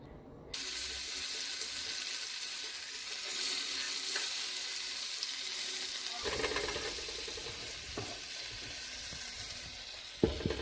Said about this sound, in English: just continue to add them till all these onions are added to the pot and cooking together